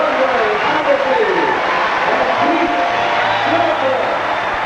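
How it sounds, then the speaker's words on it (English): A sold-out tennis crowd in Los Angeles roars steadily and loudly as a dense, sustained wash of cheering, with a commentator's voice talking over it throughout. "A roar goes up from this crowd, a tremendous roar."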